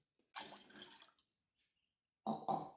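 Water poured into ground spice powder for Karnataka katsaru, two short gushing pours close by, the first longer and the second a brief double splash after a quiet gap.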